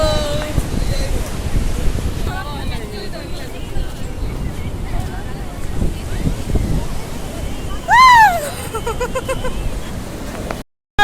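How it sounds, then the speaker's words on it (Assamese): Wind and sea waves at a seashore around dusk make a steady, loud broadband rush for the whole stretch, with a brief rising whistle-like tone near the end before it cuts out. "এয়া সাগৰৰ পাৰত আহি গ'লোঁ।"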